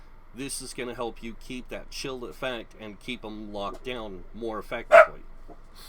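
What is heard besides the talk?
dog barking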